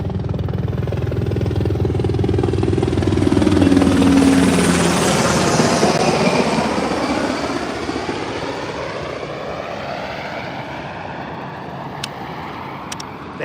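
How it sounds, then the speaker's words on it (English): Military helicopters pass over the Chattahoochee River near Fort Benning in Columbus, Georgia, a loud rotor thump and engine roar swelling as they approach, then fading away with a falling pitch, with no talk. "You know, the helicopters are coming by. That's Fort Benning's just right up the road."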